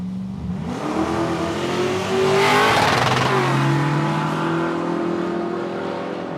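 Paddy Lawler's Valiant Coupe drag car at Palmyra Raceway, its engine revving hard and climbing through gears, swelling to a loud peak midway before settling into a steady drone.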